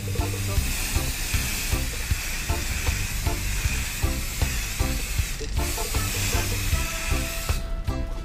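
A spray can sprays a coating onto a car headlight during headlight restoration, producing a continuous close hiss that runs steadily for several seconds with small crackles and brief pauses.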